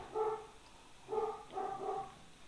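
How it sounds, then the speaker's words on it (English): A dog barks in the background as a neighbor's party goes on, giving three short bursts of barking, with a pause after the first, at moderate distance and with no talk over them. "So if you hear Loki barking in the background"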